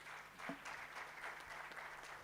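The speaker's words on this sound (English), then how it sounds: "Ladies and gentlemen, can we give a good clap for our panel?" Audience applause for a panel at a national local economic development summit, a steady patter of many hands clapping throughout, moderately faint and without speech.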